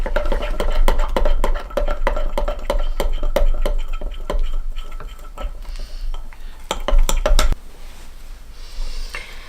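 White bread flour being mixed into a mixture in a bowl, with a quick series of clinking, scraping strikes of utensil against the container that slow and thin out toward the end.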